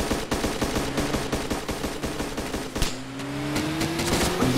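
Rapid gunfire in the video game Arma 2, with many sharp bursts of shots repeating through the first three seconds, then a vehicle engine droning on afterwards.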